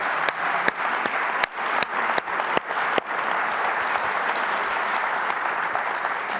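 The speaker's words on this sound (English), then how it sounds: "please give an applause for the panel in the previous time" An audience at a panel event applauds steadily, dense clapping holding at an even level for several seconds, with a few sharper individual claps standing out near the start.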